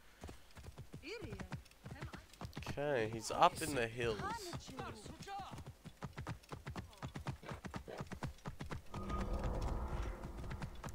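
Horse hooves clip-clop in a steady, brisk rhythm in Assassin's Creed Origins (The Hidden Ones DLC), running throughout at moderate volume beneath a voice talking.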